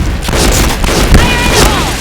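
A grenade blast in a first-person shooter game, a loud, booming, dense burst within constant battle noise, with further thumps and crackles around it.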